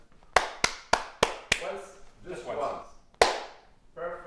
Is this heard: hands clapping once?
yes